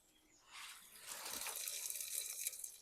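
Water from a can of tinned potatoes pours and splashes, likely into a sink, starting after a brief quiet moment and continuing as a faint, steady trickling gush.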